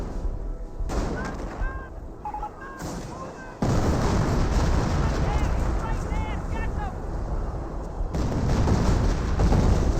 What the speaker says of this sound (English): that's officer artillery from the Brit